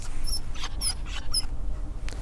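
A puppy whimpers in three thin, high-pitched squeaks spaced about half a second apart over a low background rumble, close and fairly faint, with no speech.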